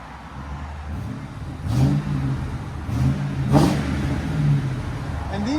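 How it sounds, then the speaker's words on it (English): Ford Crown Victoria with a 4.6L V8 and Cherry Bomb-style aftermarket exhaust (Carven) revving gently: a deep, steady idle rumble swelling into three or four short throttle blips, recorded close to the tailpipe. "Rev it gently."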